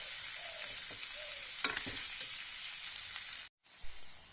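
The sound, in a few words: olives being stir-fried in a pan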